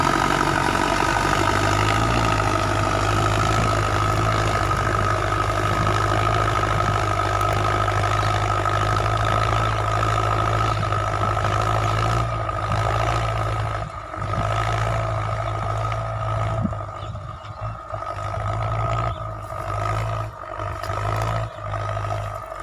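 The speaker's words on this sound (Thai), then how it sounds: "ฟังเสียงท่อเขาทองนครสวรรค์นะครับ" A Ford 6600 tractor fitted with a new clutch plate, its engine and exhaust running with a loud, steady low rumble close by, a slight unevenness late on as it works in muddy rice-paddy soil.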